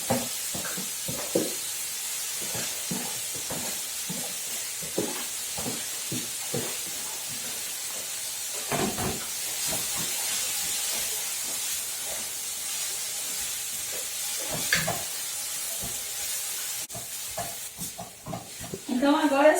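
Chaya leaves are sautéed in olive oil with a steady soft hiss and sizzle, broken by repeated close scrapes and clicks of a spoon stirring the pan.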